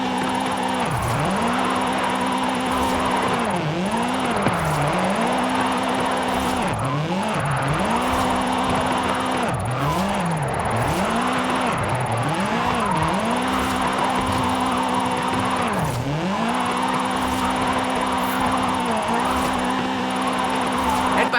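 Car drifting in Forza Horizon 5 at a Mexico drift club event, its engine revving in repeated rising and falling sweeps as the tyres warm up, loud and continuous with no talk.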